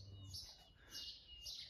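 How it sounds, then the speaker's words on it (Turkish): Birds chirp in a garden after rain, giving a few high, bright tweets in short bursts over a faint, quiet background. "Kuş cıvıltılarına."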